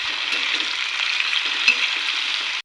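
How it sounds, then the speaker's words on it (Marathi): Tomatoes sizzle in a hot frying pan while being stirred, a steady close crackle with faint scraping and a brief clatter near the end. "हे बघा, टमाटे त्याच्यामध्ये मस्तपैकी मिक्स करून घेऊ आपण आता."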